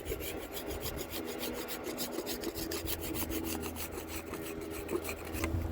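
Steady rasping scrape of a tool taking excess sealant off a skylight during a leak repair, continuous and close for several seconds with no talk.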